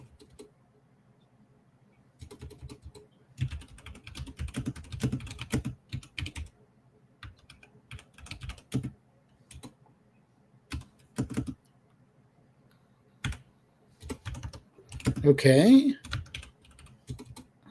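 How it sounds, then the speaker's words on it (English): Computer keyboard typing runs through most of the stretch in quick irregular bursts, fairly close, alternating with pauses and sometimes sitting under casual talk. A louder, noisier burst comes near the end. "Sorry, I'm typing here."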